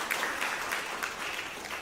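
Round of applause from a summit audience in New Delhi welcoming the President of India, an even, moderately faint patter of many hands clapping at a distance in a large hall.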